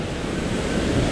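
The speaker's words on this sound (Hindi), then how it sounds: "ये देखो हमने एक वाटरफॉल ढूंढ लिया।" Rushing water from a waterfall near Neer Gaddu in Rishikesh, a steady broadband roar that fills the clip evenly and close by, with no voices over it.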